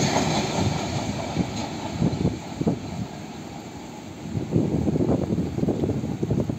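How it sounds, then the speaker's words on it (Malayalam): A train passing a disused railway station, a loud rumbling roll with surging rail noise and wind buffeting the microphone, rising again toward the end. "അപ്പോൾ ആ ട്രെയിൻ പോയി."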